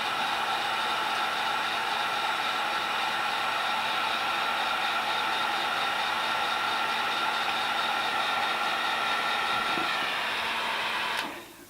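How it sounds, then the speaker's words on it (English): A heat gun blows steadily, shrinking heat shrink tubing over a crimp connector on marine-grade wire, a constant loud whooshing whir that holds unchanged for several seconds before cutting off at the end. "put some heat to this heat shrink tube, and it will shrink right up and seal around the wire and the crimp connector"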